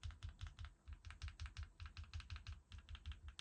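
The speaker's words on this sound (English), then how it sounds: "I'm going to talk about the typing experience with the Halo65 HE" Rapid, even keystrokes on a NuPhy Halo65 HE keyboard with Magnetic Jade Pro magnetic switches and double-shot PBT keycaps, a close, crisp run of clacky typing with no talk.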